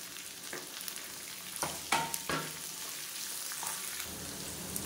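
Onion, chayote and mint sauté in a pan, giving a steady soft sizzle with a few brief stirring scrapes and clatters through the middle.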